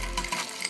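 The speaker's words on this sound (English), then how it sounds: "I'm gonna add ice to it." Ice cubes dropped into an empty rocks glass, a quick bright clatter of a few cubes striking glass, close and alone.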